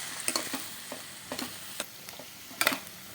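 Chickpea sundal being stirred in a kadai, with a few separate scraping and clinking strokes over a quiet background with no voices.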